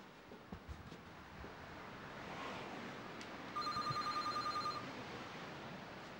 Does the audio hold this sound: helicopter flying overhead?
no